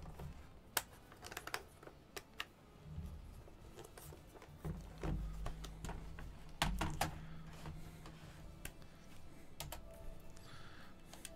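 Fingers type on a computer keyboard in scattered bursts of sharp clicks. Several louder taps stand out over a low, murmuring background.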